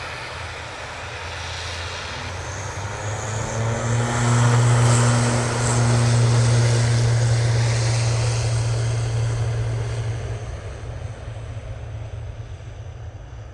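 A TUI passenger jet passes at Manchester Airport with a loud, steady engine roar and a strong low hum that swells toward the middle and then slowly fades as it moves away.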